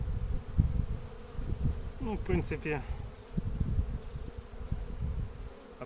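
Honeybees buzz steadily around brood frames of emerging grey brood as a starter colony is assembled for queen rearing, a close, continuous hum with a person briefly talking over it.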